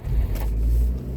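A carburetted Nissan Sunny with an automatic choke settles into a deep, steady close-up engine rumble just after starting, with a brief higher rasp partway through.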